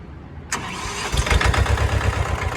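A Mahindra 245 JIVO tractor engine cranks and catches with a sudden burst, then settles into a loud, rough, thumping idle close by.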